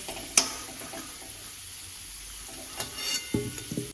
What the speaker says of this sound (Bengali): আলুগুলো দিয়ে ভালোভাবে লাল লাল করে ভেজে নেব